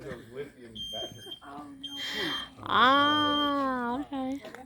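An old smoke detector gives a single steady high chirp early on, while people keep talking loudly around it.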